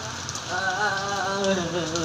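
Rain falling outdoors at night, a steady soft patter of drops spread evenly throughout, with a faint tonal hum and distant sounds layered over it.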